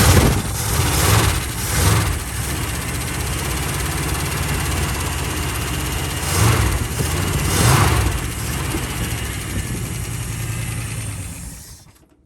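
A 1972 Dodge W100 truck that has sat for fifteen years cranks over continuously. The starter drones loudly and unevenly with periodic surges for about twelve seconds before cutting off, and no voices are heard.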